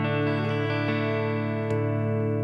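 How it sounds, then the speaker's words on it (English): An electric guitar plays through a Fender Tone Master amp on a Deluxe Reverb setting, its sustained, harmonically rich notes ringing out with a few soft picked attacks and a change of chord near the end. "There's something better clean. That's a Fender Deluxe Reverb setting."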